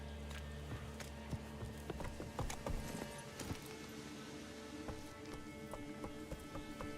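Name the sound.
hoofbeats of Roach the horse in The Witcher 3 video game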